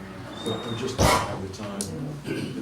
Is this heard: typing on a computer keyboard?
no